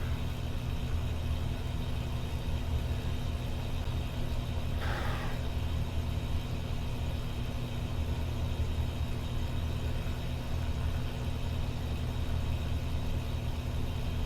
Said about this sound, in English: Engine warm-up.